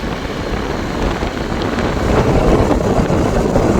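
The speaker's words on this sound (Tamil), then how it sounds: "நல்லா காற்றடிக்குது இதில்." Strong wind beside a village pond buffets the microphone with a steady, loud rumble that swells slightly toward the end, with no voices.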